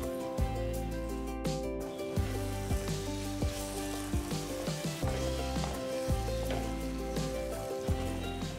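Brinjal slices and two-inch drumstick pieces frying and being stirred in masala for a dry nethili fish curry, a steady close sizzle with scraping stir sounds running under a background music track throughout.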